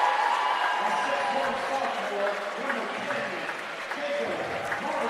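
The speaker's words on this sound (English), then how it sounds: "I know you can hear them roaring." Loud crowd noise from a packed high school basketball regional between Webber Trojans and Altamont Indians, a dense, steady roar with clapping and cheering that holds throughout, voices blending into a continuous wash.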